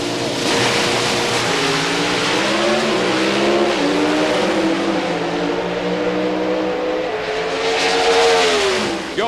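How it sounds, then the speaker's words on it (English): A Pro Stock drag racing car at the 1995 Western Auto Nationals roars loudly down the strip through five gears, its engine note climbing and dropping at each shift in a continuous, close, unbroken run with no talk. "Going through the 5 speeds, Warren Johnson prevailed"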